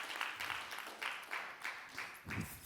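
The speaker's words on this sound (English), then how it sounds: "Another round of applause to Ishmael." A brief round of applause from a panel audience, soft, scattered clapping in rhythmic bursts, fairly distant and low in level.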